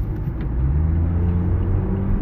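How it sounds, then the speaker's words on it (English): A car engine drones in a low, steady rumble close by, with a dense low roar through the whole short stretch and no voices. "Listen to the damn engine."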